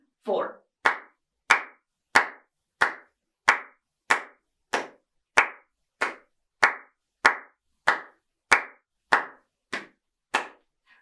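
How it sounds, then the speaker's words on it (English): Sharp hand claps keep a steady beat for saxophone practice, about sixteen evenly spaced crisp claps ringing out alone in a quiet room. "So the clapping just keeps the beat"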